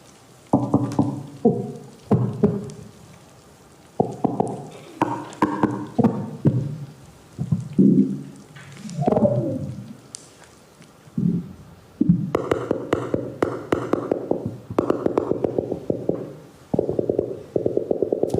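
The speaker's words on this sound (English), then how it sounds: "So we actually know that those fish produce those sounds." Fish sounds recorded underwater at Rangitahua in the Kermadecs: a sequence of low grunts, knocks and rapid pulsed croaks, some in quick trains, moderately loud against a quiet background with no talking.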